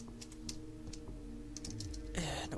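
Keyboard typing in the video game Vampire: The Masquerade - Bloodlines, faint irregular clicks of keys over a low background hum, ending with a brief louder mechanical rustle, without speech.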